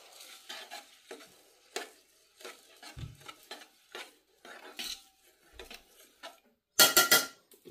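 Utensil stirring and scraping seasoned rice mixed with black pepper and salt in a pot, a series of close, irregular metallic scrapes and clinks that end in a louder clatter.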